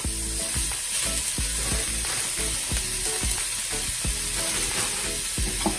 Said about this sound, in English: I'm going to add some bean sprouts